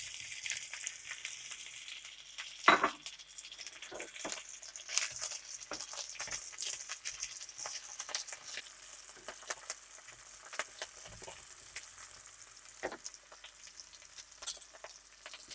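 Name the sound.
sausage pieces frying in a pan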